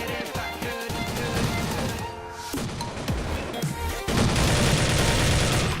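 Gunfire in the Blood Strike shooter game, where a player has switched to a pistol: dense, loud bursts of shots and crashing impacts layered together without pause, with mixed game noise throughout.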